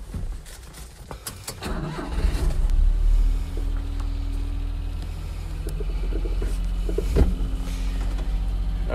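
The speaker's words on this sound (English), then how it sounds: "Let's go ahead and take it for a drive." A Daihatsu 4x4 Japanese minitruck fires up and sets off on a test drive. Its small engine catches with a short rumbling surge, then settles into a steady, close, droning run with a few clunks from the cab.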